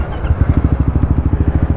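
A motorcycle engine idles close by on a Philippine touring ride, a loud, low, steady pulsing throb, heard alone without talk.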